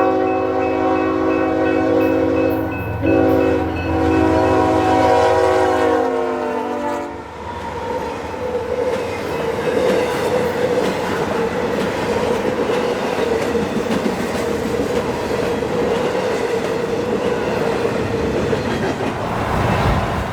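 A Union Pacific Z-train freight on the Chester Sub in winter sounds a loud, sustained horn, then rumbles past up close with steady wheel and car noise, running under 50 mph in high wind.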